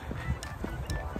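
Birds give a few faint goose-like honks outdoors in Ireland, heard from a distance at a walking pace.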